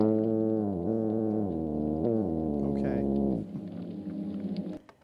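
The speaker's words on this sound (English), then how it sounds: "They'll often produce growls during the defense or guarding of their nests." A plainfin midshipman fish's low, rumbling growl drones for a few seconds, harmonic and steady with slight pitch wobbles, then drops to a rougher, fainter tail.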